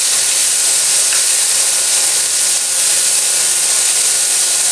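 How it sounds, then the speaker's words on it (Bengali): Bitter gourd slices frying in oil in a pan give off a steady, loud, even sizzle with no pauses, close up and alone. "ভালো করে লাল লাল করে ভেজে নিতে হবে।"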